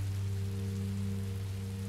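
Steady rain falls in the Minecraft Story Mode video game, a constant broadband hiss under a low droning game soundscape, loud and unbroken with no one speaking.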